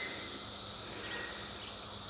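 A dense, continuous high-pitched drone from a swarm of periodical cicadas during the 2021 mass emergence, steady and loud throughout with no voices.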